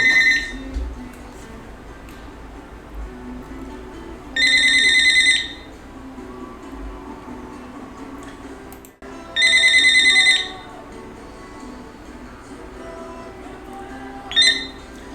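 A phone ringtone rings in three bright, repeating bursts spaced several seconds apart, the last one cut short, over a quiet room during a Portuguese-language live stream.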